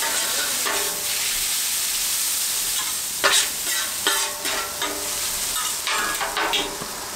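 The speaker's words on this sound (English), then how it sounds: "Stir these around." Hibachi noodles stirred on an oiled Blackstone griddle, with continuous close sizzling and repeated scraping spatula strokes that come in bursts and grow louder partway through, no talking.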